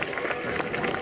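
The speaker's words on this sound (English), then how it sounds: "please give a nice round of applause to Staff Sergeant Kevin Pressgraves" Crowd applause for a US Army Golden Knights parachute team jumper at an open house, a dense steady wash of many hands clapping at moderate distance, continuous and unbroken.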